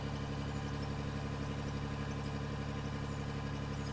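Heavy mining machine engine in the game Out of Ore, a steady monotone low drone that stays unchanged throughout and plays alone at moderate loudness.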